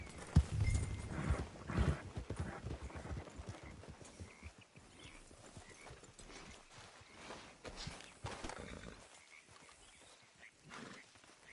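Horse hooves clip-clop faintly in Red Dead Redemption 2, a steady walking rhythm that thins out partway through, with a possible brief whinny and soft ambient background.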